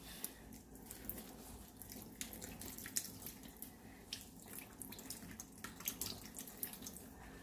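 Water pours steadily from a kitchen tap into a sink, heard faintly and fairly close, with small splashes and drips over a constant gush.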